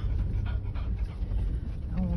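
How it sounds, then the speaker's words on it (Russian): A stray dog pants quickly and steadily in a town street among abandoned dogs and puppies, close but fairly soft over a low background rumble, with a faint whine near the end. "у меня, наверное, 7 взрослых собак и сука со щенками"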